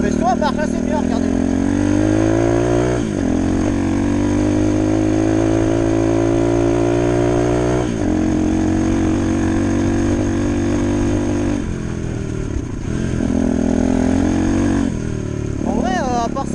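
A small CRZ motorbike engine runs loud and close, a sustained buzzing drone that rises and falls in pitch as the rider accelerates and eases off, with someone talking over it.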